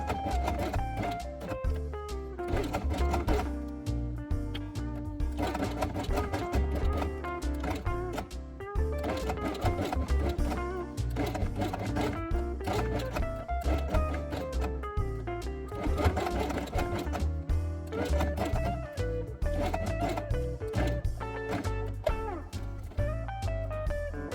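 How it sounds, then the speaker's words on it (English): A sewing machine stitching white quiet-book elements along the edge with white thread runs in a fast, steady mechanical chatter, close and continuous, with brief pauses and changes in speed. "sew only white elements along the edge with white thread"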